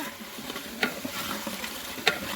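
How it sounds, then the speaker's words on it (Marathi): Onion and whole spices fry in a pot on a wood-fired stove, giving a steady close sizzle with a few sharp scrapes of a spoon stirring through it. "आता हे चांगलं आपल्याला फ्राय करून घ्यायचं व्यवस्थित"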